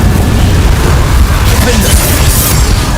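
A Confringo blast spell erupts in Hogwarts Legacy, a loud, dense rumbling explosion roaring steadily for a few seconds with a voice talking underneath.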